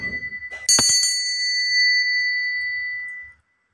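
A small bell struck once to mark a tarot reading, ringing out with a bright, clear metallic tone that sustains and slowly fades for nearly three seconds, close and alone after a few soft taps.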